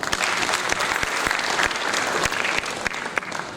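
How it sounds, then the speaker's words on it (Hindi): An audience at the Bundeli Mahotsav 2023 cultural festival claps in steady, dense applause that stays loud and continuous, with scattered sharper claps standing out from the crowd. "इतनी कम ताली है।"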